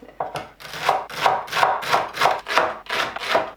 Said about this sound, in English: So now chopping this leek, just thin slice.